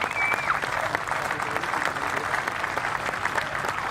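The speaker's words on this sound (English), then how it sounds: "And they richly deserve your applause" Sustained applause from a large audience at a pipe band salute in Perth, steady dense clapping throughout with no pauses.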